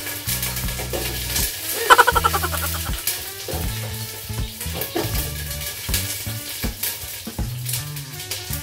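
Onions sizzling as they go into a hot pan for beef sinigang and get stir-fried, a continuous frying hiss with scraping and a brief clatter near the start, close up, with music or tones playing underneath.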